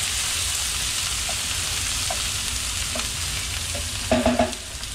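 Hot oil sizzles steadily in a pan after red paprika is added, a constant crackling hiss with a few soft clinks and a brief louder burst near the end.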